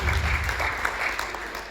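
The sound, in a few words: audience applauding at youth parliament speech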